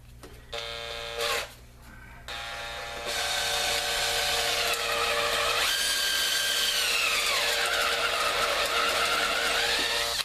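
A power drill runs in steady bursts, starting and stopping briefly before a long continuous whine that dips in pitch as it bites into a glue-laminated wood block.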